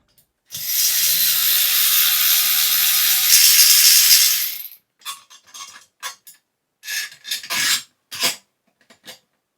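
A ratchet tightens bolts while an RV airflow vent is installed. It starts with a long, loud, rapid clicking run, then a few shorter clicking bursts follow with gaps in between.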